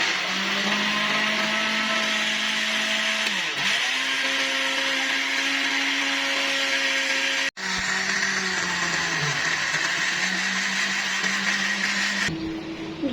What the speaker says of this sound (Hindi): अब चलाते हैं ब्लेंडर।